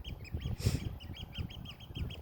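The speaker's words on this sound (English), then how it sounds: "Look at the birds, just in bliss, singing" Repeated short bird calls chirp steadily in the background, with a low rumble underneath and a brief burst of noise partway through.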